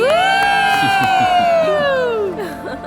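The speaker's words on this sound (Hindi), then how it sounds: "जोरदार तालियां हो जाएं" A loud crowd cheers, with one long rising-then-falling whoop ringing above the excited noise.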